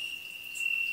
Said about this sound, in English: Yes, I have a cricket sound too.